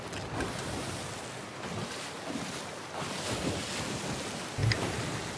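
Ship sailing upwind on open sea in Sea of Thieves, with steady wind rush and washing waves around the hull, a continuous broadband roar with a brief low thump near the end.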